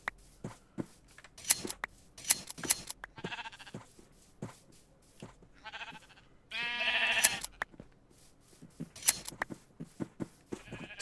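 Sheep bleat in the video game Minecraft, several short nasal calls scattered among clicking and shuffling game sounds, with one longer, louder bleat near the middle.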